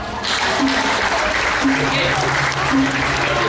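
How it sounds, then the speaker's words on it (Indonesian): Audience applause at a Balinese drama gong stage performance, a steady wash of clapping sustained for the whole stretch at a fairly loud, even level, with faint tonal sounds beneath. "tepuk tangannya dong"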